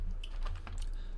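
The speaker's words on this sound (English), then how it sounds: "I'm going to type in the chat." Quick clicking keystrokes on a computer keyboard, a short light burst of typing heard close up over a low steady hum.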